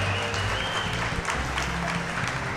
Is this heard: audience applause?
yes